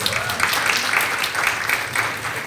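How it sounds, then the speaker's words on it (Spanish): An audience applauds a panelist at a panel on climate resilience and decoloniality in Latin America, steady clapping from many hands filling the room for the whole stretch. "Un aplauso."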